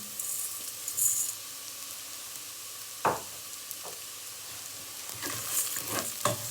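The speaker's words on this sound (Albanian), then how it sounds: "I fusim dhe orizin në përzierje." Rice tipped into a sizzling frying mixture in a pan and stirred, with steady frying hiss throughout and a sharp utensil clatter midway, followed by more scraping and stirring.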